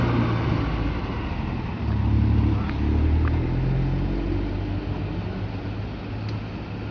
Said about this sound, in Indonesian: Berlian Jaya Medium juga diberangkatkan keluar dari parkir Kalianget